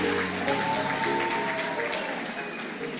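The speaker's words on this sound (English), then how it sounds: "Kindly clap for them." An audience at a Kenyan political gathering claps, the sound loud and full at first and then slowly thinning, with some crowd voices mixed in.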